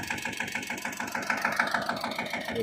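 A farm tractor's engine running as it turns in a field during soybean spraying work, a steady throbbing mid-pitched rumble with a regular pulsing beat, close and continuous for a couple of seconds.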